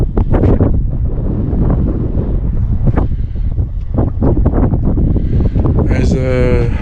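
Strong wind buffeting the microphone beside a road, loud gusty rumble throughout with a person speaking under the noise.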